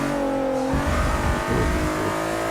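A race car engine in Forza Motorsport 6 drones and revs loudly and continuously, with the pitch dipping and rising as manual gears shift with the clutch.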